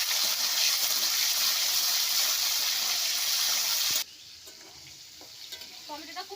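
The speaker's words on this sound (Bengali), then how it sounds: "এবার দিয়ে দিচ্ছি ফোড়নের মধ্যে আমি টমেটো কুচি।" Chopped tomato hits reddened spiced tempering oil for a Bengali jackfruit-and-prawn curry, giving a loud, dense sizzle for about four seconds that suddenly drops to a quieter crackle with a few light utensil clinks.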